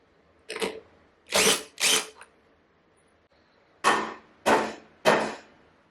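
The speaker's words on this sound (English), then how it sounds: "make some height adjustments by using a rubber mallet, and tap the speed reducer upwards" A rubber mallet thumps the speed reducer of a Cobra Class 26 sewing machine upward. There are six dull, solid knocks in two groups of three, separated by a short pause, in a quiet room.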